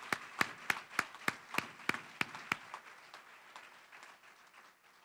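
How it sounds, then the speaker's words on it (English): Applause for Senator Plant at the 2012 AFC Convention opening session begins as sharp, evenly spaced claps, about three per second, then loosens into softer, scattered clapping that gradually fades. "let's give Senator Plant a rousing round of applause"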